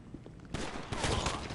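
Burst of gunfire in GTA Online during a Cayo Perico heist setup mission, a dense rapid volley kicking in after a quiet start and holding loud to the end.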